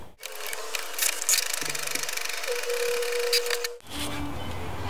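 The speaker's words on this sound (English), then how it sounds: "I'm just gonna print it out on some construction paper to my printer" A home printer feeds and prints a stencil onto construction paper, a steady mechanical whir with shifting tones and small clicks for several seconds, then the motor stops abruptly and a quieter hum follows.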